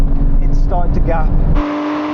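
Aston Martin Vantage GT8 and GT4 cars accelerate hard in a drag race, a loud close engine roar climbing through the gears under a voice talking, then a steady higher engine tone.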